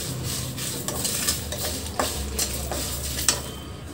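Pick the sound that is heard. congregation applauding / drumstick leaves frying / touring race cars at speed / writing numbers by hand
drumstick leaves frying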